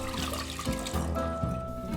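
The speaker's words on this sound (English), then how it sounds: "I pour it in a saucepan" Water pours briefly into a saucepan, a steady splashing trickle that deepens in tone as it fills, heard up close.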